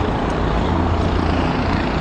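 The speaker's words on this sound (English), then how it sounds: "they got helicopters about to take off" Steady rumble of helicopters preparing to lift off near the BQE in New York City, a constant broadband drone with heavy low-end engine and rotor noise filling the whole stretch without a break.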